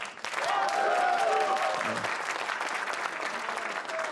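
Loud crowd applause greets Ahn Cheol-soo at a 2022 South Korean election night gathering, with cheering voices rising over the clapping early on before steady clapping carries on alone.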